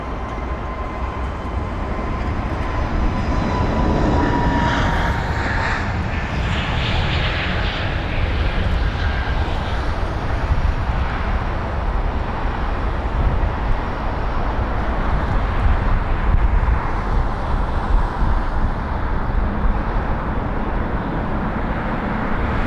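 A British Airways Airbus A320neo departs Heathrow with a loud, steady jet engine roar that holds for the whole stretch. It swells slightly as the aircraft passes close by, and no voices are heard.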